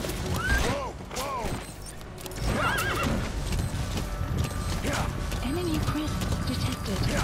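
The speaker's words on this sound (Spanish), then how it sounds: "Caballo" A horse in the video game Metal Gear Solid V: The Phantom Pain whinnies several times, rising and falling, over clip-clopping hooves and game ambience while someone speaks.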